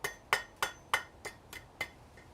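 Seven sharp hammer blows ring out on a hot steel curl against an anvil in a smithy, evenly spaced about every third of a second, bright and metallic with short decaying rings, the last blows slightly softer, no talk.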